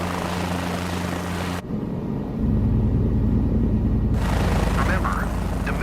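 Cabri helicopter hovering about two feet off the ground, a loud steady rotor thump and engine drone that drops briefly then returns with a pulsing low beat, with a voice talking over it.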